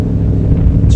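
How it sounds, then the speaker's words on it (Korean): A Scania V8 eight-cylinder marine engine powering a boat at sea gives a steady, loud, low rumble with wind noise over the microphone. "스카니아 V8 엔진, 8기통 엔진의 소리입니다."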